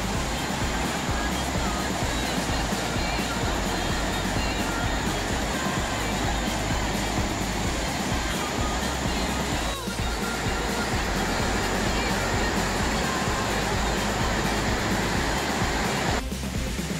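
A river rushes beneath an 1886 covered bridge in Franconia Notch State Park, making a dense, unbroken roar of flowing water that stays loud and steady from start to finish.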